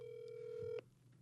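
A telephone line tone on a call placed during a local radio broadcast about heavy-rain preparedness: one steady electronic tone held for under a second, then cut off to quiet line hiss.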